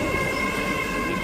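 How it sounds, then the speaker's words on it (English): A train passes through Doncaster station, with a loud, continuous rumble of wheels and a sustained, high metallic squeal close by. "a second train"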